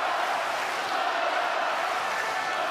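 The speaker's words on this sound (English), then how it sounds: "They haven't lost their voice, and they've been cheering for some time." A steady roar of tennis fans cheering and shouting in the Ostrava arena at the 2022 WTA final, a continuous crowd wash with no breaks, loud and even throughout.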